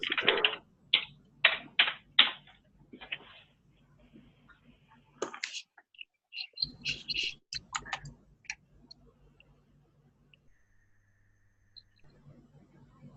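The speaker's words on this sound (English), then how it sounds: "I'm done with typing" Fast clicking keystrokes on a computer keyboard come in short bursts and scattered taps, fairly close, with quiet gaps and faint background sounds between them.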